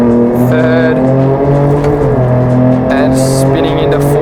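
2023 Ford Raptor accelerating hard through its 10-speed gearbox, a loud close engine drone climbing and dropping with each shift and wheels briefly squealing, while someone talks over it.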